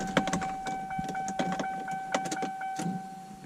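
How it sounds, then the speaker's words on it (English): A fuel pump primes in a Ford Mark VIII car being fitted with a manual transmission, giving a steady electric whine under a scatter of sharp clicks and clunks nearby, with no talk. "fuel pump prime, good"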